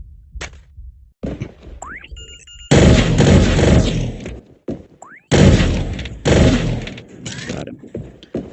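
Bursts of video game gunfire in a fast shooter run, loud broadband volleys starting around three seconds and again near five, with quieter thuds and clicks between.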